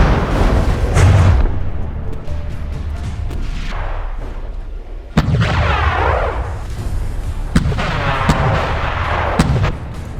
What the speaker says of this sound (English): You still got the Skeeters firing at it, causing internal damage.